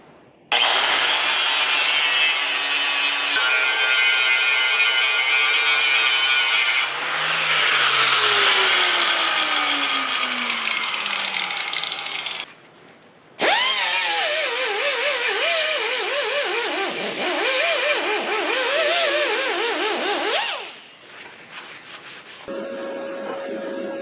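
A power tool grinds and blends pitting and scratches on a metal edge, running loud and steady in long continuous passes with shifting pitch, a brief pause midway and a quieter tail near the end.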